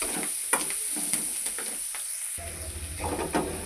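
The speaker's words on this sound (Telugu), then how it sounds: "ఫ్రై చేసుకోవాలి ఆనియన్స్." Onions sizzle steadily in a hot pan for a bitter gourd fry, with a constant close hiss and light scraping stirs now and then.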